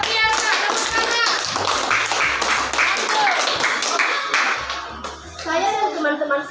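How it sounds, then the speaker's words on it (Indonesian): A class of children claps in a quick, uneven burst of hand claps close by, with children's voices chattering and calling out over and after the applause. "Tepuk tangan."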